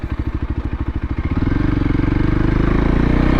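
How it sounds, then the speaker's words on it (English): A vehicle drives along a dirt off-road trail, kicking up dust. Its engine is loud and close, with a pulsing idle-like beat that quickens and smooths into a steady, rising drone. "There's somebody driving home, kicking up dust."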